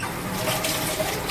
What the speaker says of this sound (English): And I like to rinse it in water.